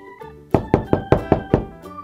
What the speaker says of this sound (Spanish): ¿Alguien más toca la puerta?